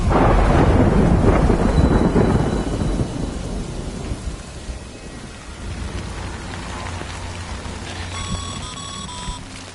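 Rain and a thunderstorm in the Death Stranding video game: a loud thunder rumble at the start fades into steady rainfall, with faint electronic tones near the end.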